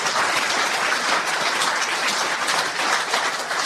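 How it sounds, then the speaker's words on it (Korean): Sustained, dense applause from an audience at a Korean-American association general meeting in Los Angeles, a steady crowd clapping that fills the space at even loudness without any speech over it. "박수 한번 주시죠."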